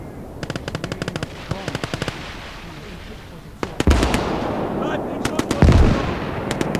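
Rapid machine-gun bursts and heavy artillery booms rumble across a World War II battlefield in the real-time strategy game Gates of Hell: Downfall, with sharp cracks stacking over a dense continuous roar of combat, loud and close.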